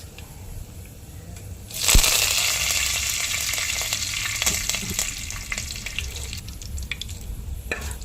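Fenugreek seeds and curry leaves, with mustard seeds, hit hot oil in a sudden loud burst of sizzling, then settle into a dense, steady crackle and spatter that slowly eases.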